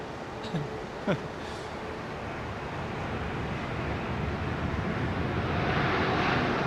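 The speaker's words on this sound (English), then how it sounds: "(787-10) Rolls-Royce Trent 1000s. Heavy on the brakes." A Boeing 787-10 with Rolls-Royce Trent 1000 engines landing on runway 27R at London Heathrow, its broad jet roar swelling steadily and growing louder from a distance, with brief faint voices near the start.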